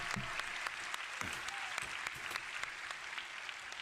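Applause during a Final Fantasy reveal livestream, steady clapping throughout with distinct sharp claps over a dense wash, no voices.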